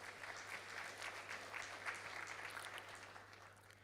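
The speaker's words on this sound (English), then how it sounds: "let's give them all another big round of applause, please." Steady applause from a conference audience at an energy transition event in Borneo, a dense even patter of many hands sustained throughout, with a low electrical hum underneath.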